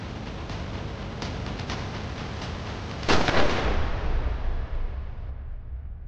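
Loud, sharp gunshots crack in a rapid burst over a constant harsh roar, then one heavier blast with a lingering rumble.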